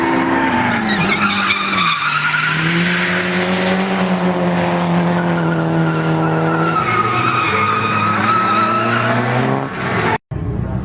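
A Mitsubishi Evo drifts on a public street, all four tires sliding in a loud, sustained squeal that wavers in pitch for about ten seconds over a revving engine, then cuts off abruptly.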